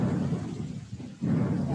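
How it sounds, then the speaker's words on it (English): Rain and thunder sound effect opening a song in an online music class: steady broadband rain hiss with low rumbling thunder that dips briefly and then swells back, heard alone without talking or instruments. "The rain comes in, and then the thunder comes in"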